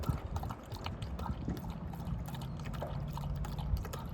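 Water running from a tap, a soft trickling and splashing flow with scattered drips and light knocks, faint and continuous.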